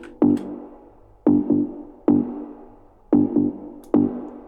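A processed techno bass pluck made in Ableton from a single sample, turned down with a utility, given 20% reverb and squashed with OTT compression. It plays as short punchy plucks in a sparse repeating rhythm, close and clear, with no other sounds.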